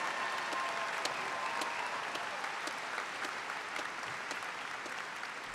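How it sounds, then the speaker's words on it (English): Steady applause fills a large university commencement crowd at Hofstra, a broad, even wash of clapping heard from a distance at moderate volume. "Let's have a round of applause for them and the great job they do for us."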